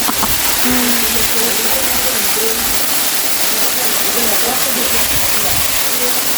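A very tall waterfall roars nearby with a loud, steady rush of falling water that fills the whole stretch.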